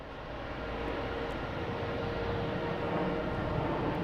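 JetBlue Airbus A220 at Boston Logan, a low, steady jet rumble heard from a distance that swells slightly as it goes on.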